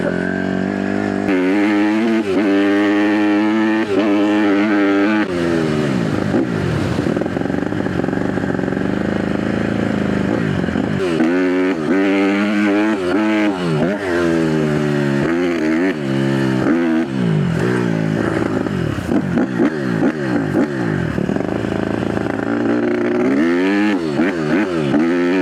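A dirt bike engine runs continuously while warming up, its loud, close idle rising and falling through repeated revs, with no talking.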